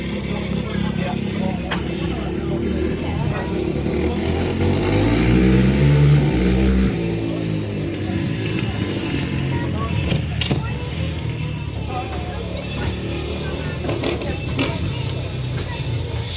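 Quad bike engine revving hard on grass during a wheelie stunt display, a loud continuous motor drone that swells to a rising rev in the middle, with outdoor crowd noise and voices throughout.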